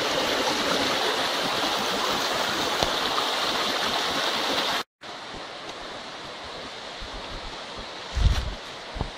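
Steady broadband rush of the Pala-U waterfall, continuous and close, cutting out for an instant midway and returning slightly softer, with a low thump near the end.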